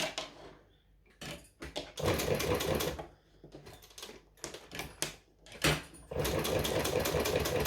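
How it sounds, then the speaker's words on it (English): A sewing machine stitches and back-stitches a fabric strap. It starts with several short stop-start bursts, then settles into longer steady runs of rapid needle clatter. "Stitch, back stitch, pull it out, grab another one."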